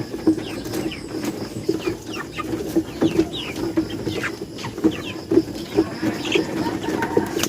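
Chickens clucking nearby in a rural yard, repeated short clucks and chirps in an uneven rhythm over a steady background of other birds and hum.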